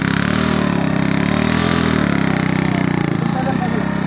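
A motorcycle engine idles on a desert track near a Pakistani coal field, a loud, steady, close-up rumble that runs unbroken throughout.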